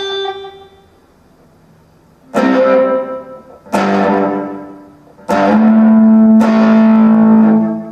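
Electric guitar chords strummed one at a time through an XVIVE Maxverb pedal with the time turned all the way up, each ringing out into a long, washy reverb tail that lingers and blends into the next.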